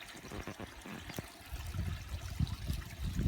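Water trickles and splashes through a new Bakki shower filter on a koi pond, a quiet, uneven dribbling with soft gurgles and drips.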